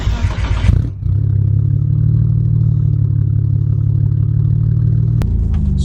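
A modified Nissan R32 GTR on a road test: a burst of clatter and revving gives way to a loud, steady, close engine drone with a single sharp click near the end.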